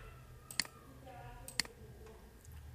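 Two sharp, close computer mouse clicks about a second apart, crisp and distinct over a faint background hum.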